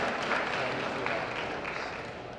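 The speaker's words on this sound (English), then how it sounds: "Please give another round of applause to those who did a lot of great jobs for this event." Audience applause fills a UCLA A.UD runway event, a steady dense wash of clapping held at an even level throughout, with a faint voice partly under it.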